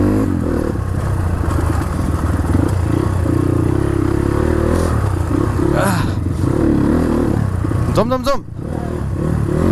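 Dirt bike on a rough trail, its engine droning steadily under a rider's talk, with clattering from the rough ground and a loud surging burst near the end.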